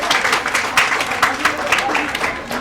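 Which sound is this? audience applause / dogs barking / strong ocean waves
audience applause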